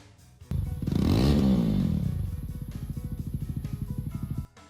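A Triumph Scrambler 400X motorcycle engine revs up hard, then falls back to a rapid, chugging idle. It sounds loud and close, then cuts off.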